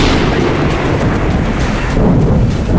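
Thunder rolls through a mountain forest during a storm, a loud, continuous low rumble blended with heavy rain noise that fills the whole stretch without a break.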